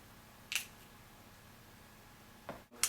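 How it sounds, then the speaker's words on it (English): Two quick hissing spritzes from a perfume spray bottle, close and crisp, separated by a couple of seconds of near silence. "So I'm going to spray it here."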